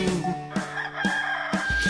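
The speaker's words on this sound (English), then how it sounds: "we all know who goes cock-a-doodle-doo" A rooster crows several times in a row, loud and close, each call a strained, stretched cock-a-doodle-doo.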